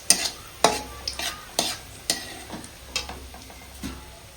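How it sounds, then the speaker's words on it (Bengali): Onions fried until brown in a pan for a mutton dish, with repeated sharp utensil scrapes and taps against the pan over a soft sizzle, close and loud with no voices. "মাংসের জন্য পেঁয়াজটা কত সুন্দর আমি ভেজে নিয়েছি"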